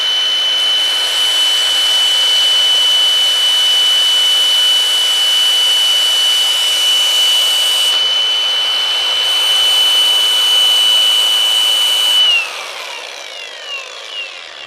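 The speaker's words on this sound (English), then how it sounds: "taking my angle grinder with a flat disc, turn on the angle grinder, and while it's spinning" An angle grinder with a flat disc sharpens a tungsten electrode for TIG welding, giving a loud, steady high whine that holds for about twelve seconds before the motor cuts off and spins down.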